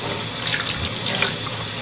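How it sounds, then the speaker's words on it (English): A kitchen tap runs a steady stream of cold water over cooked sweet potatoes in a pot, a constant close rushing splash with no talk. "Now what I'm going to do is apply some cold water over the top of them"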